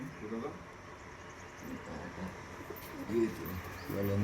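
Racing pigeons of the Pakistani high-flying teddy breed coo softly in a loft at Shantipur, with low, repeated calls over a steady background hum and faint human voices.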